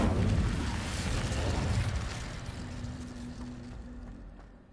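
A fiery Incendio spell blast in Hogwarts Legacy, a loud rumbling burst of flame at the start that holds, then slowly fades over several seconds.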